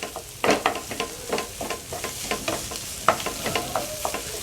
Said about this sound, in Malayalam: ഇതിനി ഉടച്ചിട്ട് ഇതിനോട് ചേരുന്നിടം വരെ ഒന്ന് ഇളക്കണം